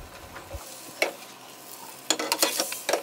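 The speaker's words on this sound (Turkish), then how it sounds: "Evet, kontrollü bir şekilde tavaları şöyle döndüre kızartalım." Fish frying in pans at home sizzles steadily, with a few sharp clanks and scrapes as the pans are turned, fairly faint and with no voices.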